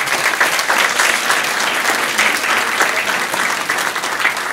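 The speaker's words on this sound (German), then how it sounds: "Einen Applaus dafür bitte." Sustained audience applause at a German event on climate and environmentally friendly farming, dense and even clapping from a sizeable crowd, loud and close throughout.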